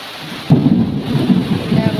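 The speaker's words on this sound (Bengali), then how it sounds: "আবার জোরে বৃষ্টি হয়েছে, মুষলধারে হচ্ছে" Heavy downpour during a night thunderstorm, a sudden deep rumble of thunder breaking in over loud, steady rain that keeps pounding afterward.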